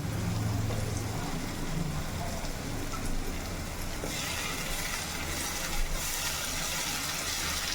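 A ground paste of ginger, garlic, fennel and pepper is poured into a beef curry gravy, giving a steady wet, splashing pour across the whole stretch with no talk.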